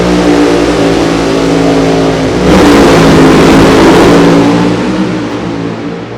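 A drag racing car's engine revs hard at Sonoma, a loud, steady mechanical roar that surges sharply about halfway through and holds near and strong to the end.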